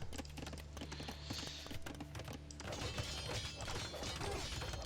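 Knight cavalry hooves clatter in Age of Empires II DE, with busy clip-clop beats mixed with mechanical clanks and battle crashes, continuous and moderately loud.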